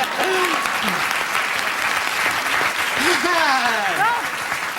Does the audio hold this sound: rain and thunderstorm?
no